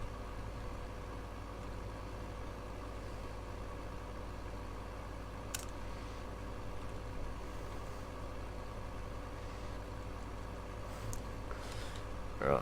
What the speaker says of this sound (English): come on, little tractor, pull.